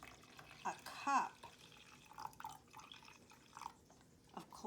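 A cup of cold water from the fridge poured into a bowl, giving soft splashing and dripping trickles, faint and intermittent.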